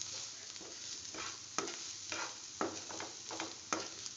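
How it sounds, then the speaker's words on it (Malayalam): Turmeric, chilli and black pepper powder being stirred into a paneer kurma base over low heat: a spoon scrapes the pan in repeated strokes over a soft, steady frying sizzle, close and fairly quiet, with no voices. "ഇവയിട്ട് വീണ്ടും ഇളക്കുക."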